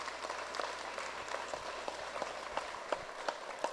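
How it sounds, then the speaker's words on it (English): Audience applause for candidates at a municipal election reeve forum, a steady patter of clapping from a modest crowd that thins toward the end, heard at moderate distance. "Again, a round of applause for our candidates,"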